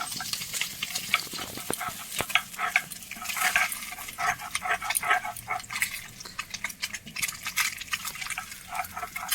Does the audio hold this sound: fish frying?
yes